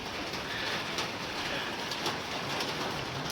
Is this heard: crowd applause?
no